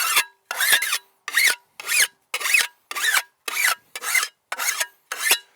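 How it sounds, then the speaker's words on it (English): A standard hand file is drawn one way along the edge of a garden spade: ten steady, evenly spaced rasping strokes, close and loud, each a short gritty scrape separated by silence. "Take my garden spade and a standard file, and one way sharpening,"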